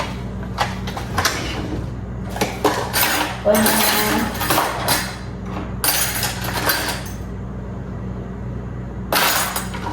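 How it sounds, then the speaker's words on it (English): Knife chopping a cucumber in half on a cutting board, with sharp knocks and clattering kitchen sounds in loud bursts between quieter pauses. "I'm not gonna use this whole cucumber, so I'm just gonna like chop it in half"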